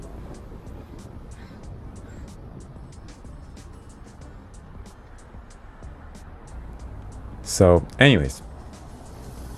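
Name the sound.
car driving through downtown Vancouver traffic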